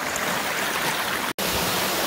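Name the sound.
small waterfall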